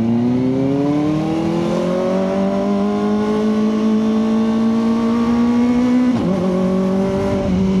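A Kawasaki ZX4RR motorcycle engine revs while riding, its pitch climbing steadily through a long pull before a brief dip near the end, loud and close with no voices.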